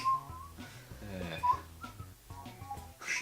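A person whistles several short, bright notes in bursts during Mario Kart Wii commentary, mixed with game music and a voice speaking between the whistles.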